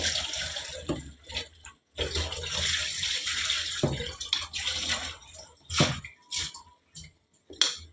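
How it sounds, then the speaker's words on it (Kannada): Butter is washed by hand in water, with sloshing, splashing and pouring in irregular bursts, close up, separated by short quiet gaps. "ಬೆಣ್ಣೆ ನೀರಲ್ಲಿ ಹೋಗದಾಗೆ ನೋಡಿಕೊಂಡು ತೊಳ್ಕೊಳ್ಬೇಕು"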